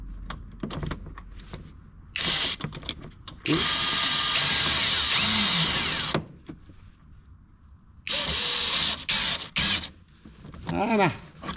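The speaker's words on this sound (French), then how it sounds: "je vais essayer de la finir à la visseuse" A cordless screwdriver driving a screw into the front bumper of a Renault Twingo II, several whirring bursts of varying length between quieter handling clicks and scrapes, close and loud.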